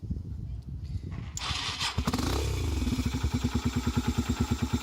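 A Yamaha XV250 motorcycle, just fitted with a new starter relay, cranks after a short click and rattle. The engine catches and settles into a rapid, even idle chug close by. A voice is briefly heard at the start.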